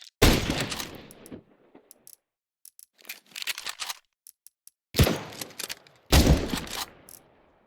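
In Counter-Strike 2, an SSG sniper rifle fires four loud, sharp shots, each ringing off briefly. Quieter mechanical clicks and clacks of the bolt fill the silent gaps between shots.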